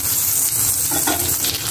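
Fritters and fish sizzle as they fry in oil in a wok, a loud, steady crackling hiss close up, with brief stirring scrapes and no talk.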